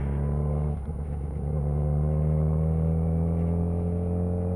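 Car engine building revs as it accelerates through the gears, a loud, steady droning rumble heard from close by, with a brief dip near the start as a gear is taken and no voices.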